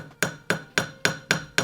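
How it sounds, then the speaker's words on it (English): A ball hammer taps metal on an anvil to give it a hammered texture, six evenly spaced, ringing metallic strikes close up with no talking. "So all you have to do is tap around with the hammer"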